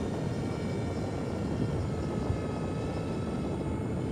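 Mini Skyhunter VTOL quadplane model aircraft in flight at about 70 m, its motors giving a steady, continuous broadband drone at even loudness throughout, with no talk.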